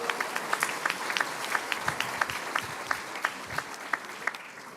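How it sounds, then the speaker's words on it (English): Scattered audience clapping for the President at a fall attorney induction ceremony, fairly faint and distant, with distinct individual claps standing out over a soft background of the crowd. "One more round of applause, please, for the President."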